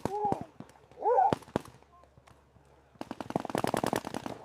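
Rapid bursts of sharp popping paintball gun shots firing in quick succession at an outdoor paintball field, preceded by a few isolated pops and brief voices.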